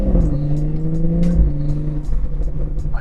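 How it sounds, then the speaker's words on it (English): A BMW M240i xDrive with a B58 engine and an XHP Stage 3 transmission tune hums loudly from the cabin with a steady droning engine note and slight shifts in pitch. "My favorite thing about this is the downshifts. They are absolutely unreal."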